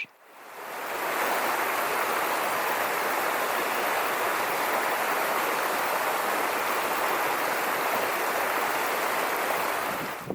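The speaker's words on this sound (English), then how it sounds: "I sat a while listening to the soothing music of tumbling water" A steady, full roar of tumbling water swells in after a moment and holds constant, broad and enveloping, with nothing else heard.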